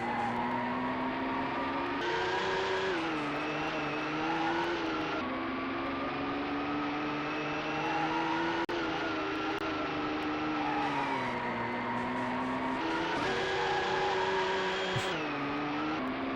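Race car engines in the video game GT 64: Championship Edition, a continuous loud synthetic engine drone that shifts pitch repeatedly as the cars rev up and change gears, with no talking.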